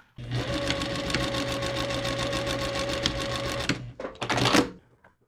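A sewing machine stitches a seam through fabric and paper for foundation paper piecing, running steadily for several seconds, then stopping and starting again in two short bursts.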